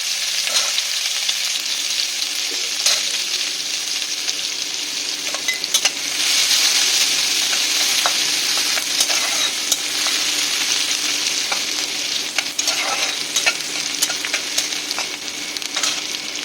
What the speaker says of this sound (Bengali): এবার আমি পেঁয়াজ কুচি দিয়ে দিলাম একটা পেঁয়াজ আমি কুচিয়ে নিয়েছি মাঝারি সাইজে